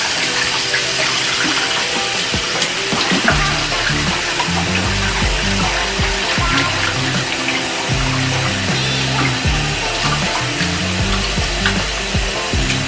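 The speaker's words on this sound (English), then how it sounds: "I'm going to fill this sink back with just plain clear water" Steady rush of water pouring into a sink basin while cleaning chitterlings, a continuous broadband splash with occasional clunks and knocks, close and fairly loud, no voices.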